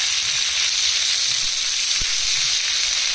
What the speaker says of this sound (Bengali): এবার তেলের মধ্যে দিয়ে দেবো পেঁয়াজ, টমেটো আর রসুন, সব একসাথে ভেজে নেব।